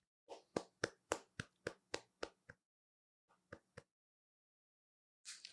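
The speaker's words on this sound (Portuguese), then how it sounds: "uma salva de palmas pro vídeo" A single person claps by themselves, with about nine sharp, evenly spaced claps followed by a pause and then three more, close and dry against silence, with a brief noisy burst at the end.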